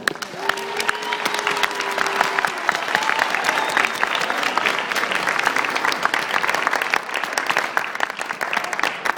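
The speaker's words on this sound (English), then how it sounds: "I want everybody to give each other a big, huge, massive round of applause." Large group applause at a church mission gathering in Toronto, dense clapping with some cheering and a few voices, sustained and fairly loud throughout.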